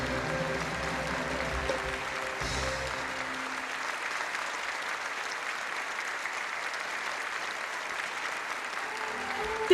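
An audience applauds a Vietnamese art troupe's stage performance with a steady wash of many clapping hands. The clapping starts loud, settles into a sustained even patter and runs unbroken to the end.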